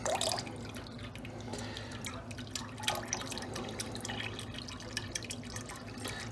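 Engine oil pours into a Milodon oil pan during a Hemi swap on a 1998-03 Dodge Dakota or Durango, a close, continuous glugging trickle with scattered drips.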